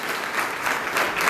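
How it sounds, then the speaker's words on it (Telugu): A church gathering breaks into brief applause, a short burst of many hands clapping together that is close and fairly loud. "అందరూ చప్పట్లు కొట్టండి."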